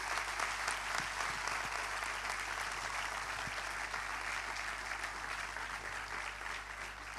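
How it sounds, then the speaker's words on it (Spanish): Sustained applause from a large crowd at a traditional music competition in Galicia, steady and dense throughout, heard at a moderate distance with a low hum underneath. "Aplauso aí!"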